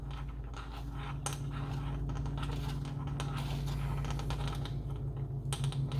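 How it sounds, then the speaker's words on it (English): A sterling silver ring rubbed back and forth on tin foil gives quiet, continuous crinkly scratching with small clicky ticks throughout. "I'm kind of just rubbing it on the tin foil"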